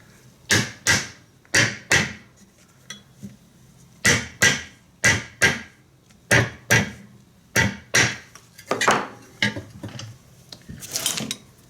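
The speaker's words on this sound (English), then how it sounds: "let's hammer on them a minute." Contact-cemented shoe soles pressed together are hammered in a steady pattern of sharp, close knocks, mostly in quick pairs and groups, with short pauses between them.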